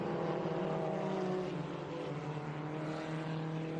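FRP 1600 race cars roar past in a pack of about eight through turn 1 at Lime Rock Park, loud overlapping engine whine with shifting pitches filling the whole stretch.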